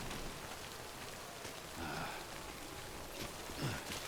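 Steady rainfall in Death Stranding pattering on surfaces, a constant soft hiss with no voices, fairly quiet throughout.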